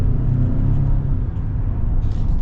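A 2021 Ford Expedition Max Limited, a large SUV, accelerates on the road, heard from inside as a steady low engine rumble and road roar that holds throughout, with no talking.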